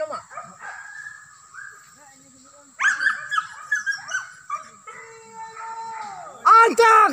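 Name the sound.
hunting dogs barking and howling during a wild boar hunt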